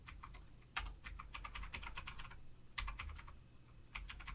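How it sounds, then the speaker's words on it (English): A new clacky computer keyboard is typed on up close in bursts of rapid, crisp keystrokes, with short pauses between runs over a low background hum. "I don't know if you guys can hear my new clackety keyboard."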